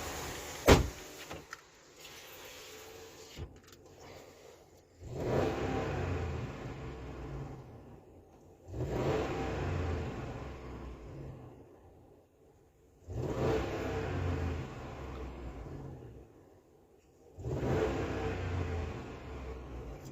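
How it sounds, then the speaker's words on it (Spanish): A Ram 5.7 pickup truck engine with a noise under hard acceleration revs up in four long surges about every four seconds, each swelling and falling back to a rumbling idle, with a door thump near the start. "Ahí encendimos la camioneta."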